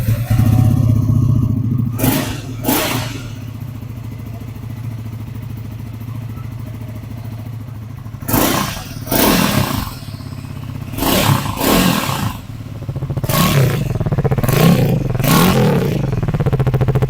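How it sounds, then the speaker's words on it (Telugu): A Triumph Scrambler 400 X fitted with a BMC performance air filter idles with a steady, loud exhaust rumble, broken by several sharp throttle blips and revs. "సో బైక్ని స్టార్ట్ చేద్దాం. సో ఒకసారి ఎగ్జాస్ట్ సౌండ్ విందాం."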